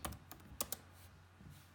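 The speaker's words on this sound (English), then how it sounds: "Typing with one hand, that's why it's taking so long." One-handed typing on a computer keyboard while filling in a Flipgrid topic, producing scattered uneven keystrokes with a few sharper taps, quiet and close over a low steady hum.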